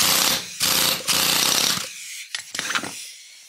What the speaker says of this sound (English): this one's coming off easily enough with the air hammer.